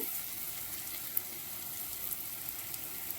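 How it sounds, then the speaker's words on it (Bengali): Spice paste of tomato, green chilli, coriander, cumin and garlic fried with mutton in a pan, a steady soft sizzle with a few faint scraping ticks from stirring, no voices. "পেস্ট করে রাখা টমেটো কাঁচা লঙ্কা ধনে জিরে রসুন বা পেস্ট করে যেটা রেখেছিলাম সেটা আমি দিয়ে ভালো করে মশলাটা কষে নিচ্ছি"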